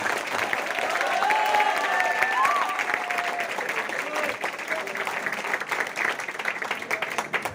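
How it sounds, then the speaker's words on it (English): An audience at a college closing ceremony and fresher's party gives senior students a big round of applause, dense and loud at first, then thinning slightly, with crowd noise and a few whistles mixed in. "Give a big applause to our senior students."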